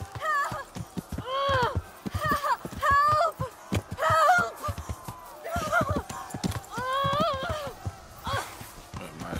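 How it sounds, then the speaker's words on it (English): A horse in the medieval game Kingdom Come: Deliverance, its hooves clopping in quick uneven beats close by, broken by loud whinnies and snorts throughout. "Steal this guy's horse and maybe try to run up on him."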